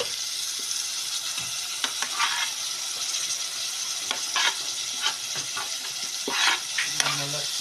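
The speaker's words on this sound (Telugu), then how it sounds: "ఇప్పుడు ఈ కొత్తిమీర ఇలాగే ఉంచి టమాటాలు మాత్రమే వేస్తున్నా" Chopped tomatoes fry in hot oil in a pan for egg curry, giving a steady close sizzle and hiss broken by scattered scrapes and clinks of stirring.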